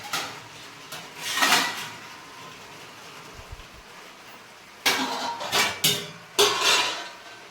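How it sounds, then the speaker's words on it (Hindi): Plates and dishes are lifted out in a home kitchen while kheer is being served, giving short clattering bursts of crockery near the start and a denser cluster of knocks and rattles toward the end, with quiet gaps between and no talking. "प्लेट निकाल लेती हूँ।"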